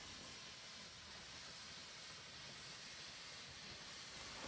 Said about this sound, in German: die kohlebefeuerte Dampflok 6 von SLM aus dem Jahr 1933